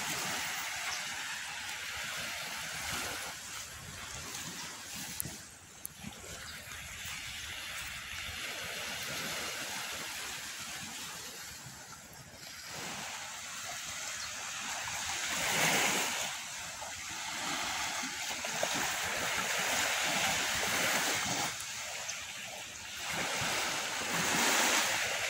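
Ocean waves break and wash continuously on the beach at Teluk Sangki on Natuna island, a steady roaring surf with surges building and fading, mixed with wind noise and no voices.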